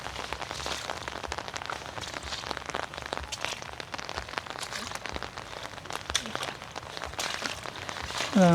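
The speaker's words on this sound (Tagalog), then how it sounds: "Walang tigil na ulan." Continuous rain falls on a flooded mini farm, a soft, steady patter of drops on surfaces that carries on alone at low volume.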